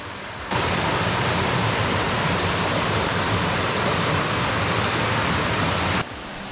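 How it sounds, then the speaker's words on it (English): A waterfall along an Algonquin portage route roars as a dense, loud, unbroken rush of falling water that starts abruptly and cuts off near the end. "Well, it was a waterfall."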